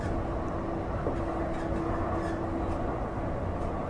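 A passenger train rolls along in Alberta, Canada, with a steady interior rumble and a faint mechanical tone running under it, and no voices are heard.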